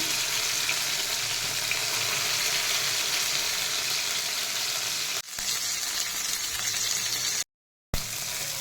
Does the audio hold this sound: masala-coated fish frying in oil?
yes